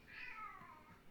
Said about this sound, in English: you just heard my cat Luigi